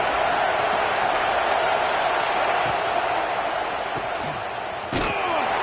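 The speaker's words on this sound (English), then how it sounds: "This crowd, full throat, splitting the eardrums and letting them know it's going to be a long day." A stadium crowd in College Football 26 roaring at full volume, a dense, constant wall of cheering and noise with a single sharp thump near the end.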